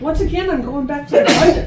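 A single sharp sneeze bursts out during a county commissioners' meeting, coming right after someone speaks about the budget, close and fairly loud.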